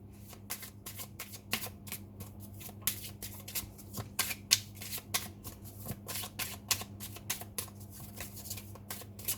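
Tarot cards being shuffled by hand, a rapid series of crisp riffling flicks and slaps repeating close up for several seconds, with no talk.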